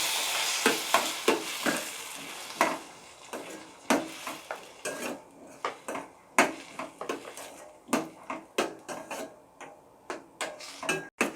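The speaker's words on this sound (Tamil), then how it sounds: "இனி அடுத்தது நம்ம தக்காளி ஆட் பண்ணிக்கலாம். இதுவும் நல்லா வதங்கட்டும்." Tomatoes sauté in a pan for crab gravy, with irregular clinks and scrapes of a spoon against the pan over a soft sizzle, close and fairly quiet, with no talking.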